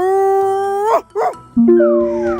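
A person imitates a dog, giving a long drawn-out howl that breaks into a couple of yelping barks, then another wavering howl, loud and close.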